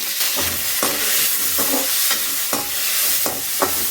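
Chopped onions and green peas frying in a pan for a baby jackfruit kuruma, a continuous close sizzle broken by regular scraping stirs of a spoon roughly every second.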